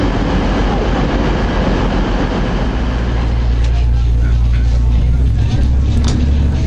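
A passenger train pulls away toward Manchester Piccadilly, its loud engine rumble and rolling noise continuous and close, with occasional clacks and talk underneath.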